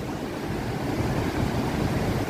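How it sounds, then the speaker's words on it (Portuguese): High surf breaks at Praia Gravatá beach in Navegantes, Santa Catarina, on a holiday: a dense, steady roar of crashing waves with some wind, loud and continuous, with no voices. "As ondas estão bem altas aí, o pessoal tá aproveitando bastante."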